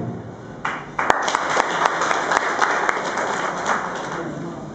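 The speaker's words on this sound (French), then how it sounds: "sous votre applaudissement" Audience applause for a speaker introduced at a meeting of the Yélimané circle association, a sustained, loud wash of clapping that starts abruptly and continues steadily with occasional sharper claps.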